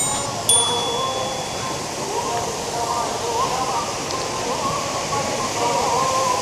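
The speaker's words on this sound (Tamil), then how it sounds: "தண்ணி வருது பாருங்கள்" Water pouring down a waterfall in Sirumalai, a steady broadband rushing wash that fills the scene throughout, with a brief faint clink near the start.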